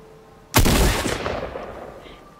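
A single loud gunshot from an SMG in Fortnite, one sharp close crack that decays over about a second and a half, heard alone without talk.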